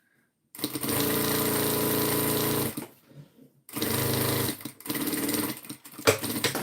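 A sewing machine under-stitches the lining of a Frankie overnight bag, running in steady rapid bursts, with a pause in the middle and short stop-start runs after, heard up close.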